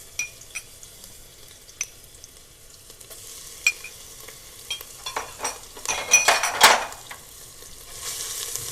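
Ginger garlic paste dropped into a small amount of cooking oil, a soft sizzle with faint clicks and stirring scrapes that build into a louder crackling fry midway before settling back to a steady sizzle.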